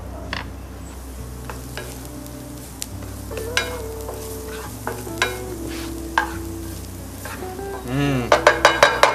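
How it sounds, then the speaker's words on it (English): Celery, shallots and garlic sizzle in virgin coconut oil in a pan, with steady frying hiss broken by repeated stirring scrapes and a cluster of sharp utensil taps near the end. "We add the celery together with the shallots and garlic."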